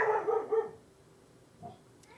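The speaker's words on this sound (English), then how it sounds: "Again, dog." A dog barks several times in quick succession indoors, fairly near, followed by a pause and one fainter single bark.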